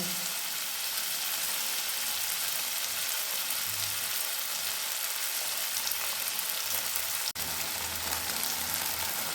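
Steady, loud sizzling of food frying in a hot pan, a continuous crackling hiss with no talking.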